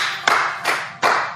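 Three sharp hand claps spaced roughly evenly, crisp and close, with no other sound between them.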